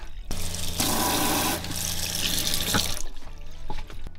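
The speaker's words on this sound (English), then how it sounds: "We have our sink with our faucets with two functions." Water runs from a sink faucet in a converted camper van kitchen, a close, steady splashing stream that starts abruptly, runs for a few seconds, then cuts off with small drips.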